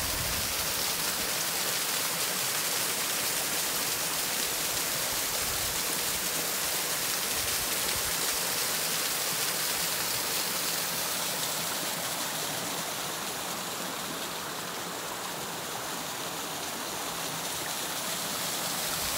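A large waterfall roars steadily at a Gaspésie spot near Cannes-de-Roches, a dense continuous rush of water heard close and loud throughout, with no speech.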